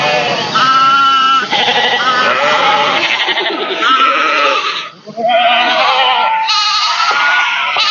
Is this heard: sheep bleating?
yes